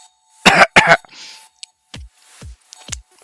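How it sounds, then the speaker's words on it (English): Two sharp, loud coughs close up, followed by a few softer throat-clearing coughs and breaths. "Cough."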